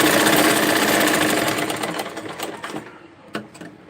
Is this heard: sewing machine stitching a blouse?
yes